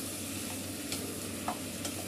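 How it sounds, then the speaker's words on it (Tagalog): Beef stew with red wine being stirred in a coated pot with a non-steel utensil: a steady low sizzle and bubbling under soft, occasional scrapes and clinks of the utensil, close and without talk. "Ayan, haluin natin hanggat gusto natin."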